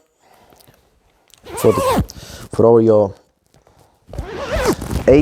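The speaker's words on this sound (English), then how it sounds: "Double zipper" A softshell jacket's double zipper is pulled in short bursts between spoken phrases, close and fairly loud, with someone talking around it.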